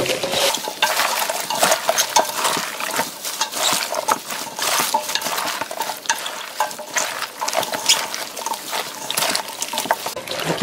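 Napa cabbage kimchi being tossed by hand with minari, onion, chives and red chili, a continuous wet squelching and rustling with clinks of a bowl, close and steady throughout.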